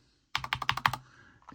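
Keycaps are pressed onto a Wooting Two HE analog keyboard, a quick burst of about six sharp plastic clicks in rapid succession, close and fairly crisp, then quiet.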